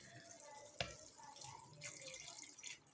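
Half a glass of water is poured into a pan of besan (gram flour) curry gravy with fried masala, giving a faint, brief splash and soft trickle with no talking.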